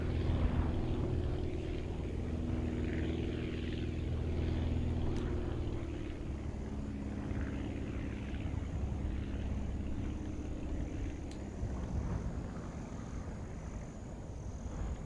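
A throttled-down aircraft engine in the Aviassembly flight game hums as a steady low drone, constant and moderately loud throughout with no talking over it.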